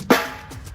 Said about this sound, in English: this is a snare drum.